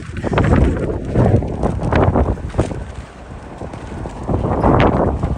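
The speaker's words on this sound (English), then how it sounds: "Oh, it's windy, man." Strong gusting wind on a New York City street before a snowstorm buffets the microphone in loud, rumbling surges that swell and ease, with no voices.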